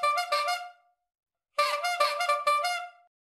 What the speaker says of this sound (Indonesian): Dulu yang bunyi klaksonnya hanya seperti ini.